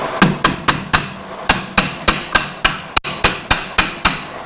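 Loud, sharp metallic hammer blows on 1960s muscle car parts during a disc brake conversion, ringing out one after another at a steady pace, about sixteen strikes, each decaying quickly.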